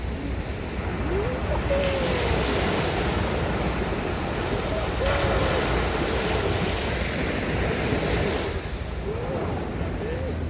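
Ocean waves wash continuously onto the beach at Atami, a steady broadband roar of surf mixed with wind buffeting the microphone, loud and close, with faint distant calls barely audible beneath.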